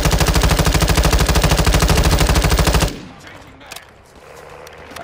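Sustained loud automatic gunfire in Modern Warfare 2, a dense rapid burst lasting about three seconds, then cutting off abruptly into quieter game ambience with faint distant noises.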